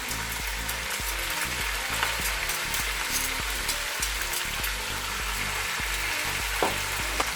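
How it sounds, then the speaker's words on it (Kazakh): Onions sizzle loudly in hot oil while making pilaf, a dense crackling hiss punctuated by regular scraping knocks from stirring, close up and without speech. "қызарып, қарғайып қуырылған кезде сақтап туралған пиязымызды саламыз"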